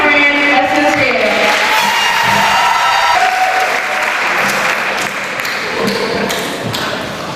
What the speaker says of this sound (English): Please give our salutatorian a round of applause,